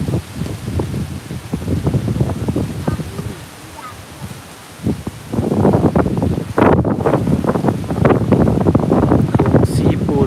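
Strong wind gusting over the microphone beside the river at the two-colored river confluence in Khong Chiam, Ubon Ratchathani, a steady buffeting roar that drops briefly midway and then surges back louder, with a few brief voice sounds mixed in.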